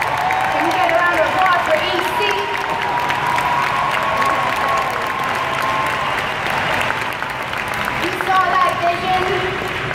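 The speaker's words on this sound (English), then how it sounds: "Can we get a round of applause for EC?" A crowd audience gives a full, continuous round of applause with some cheering mixed in, loud and dense for the whole stretch, while voices call out faintly beneath it.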